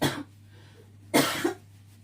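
Two sharp coughs, close by, separated by about a second of quiet with a faint hum underneath.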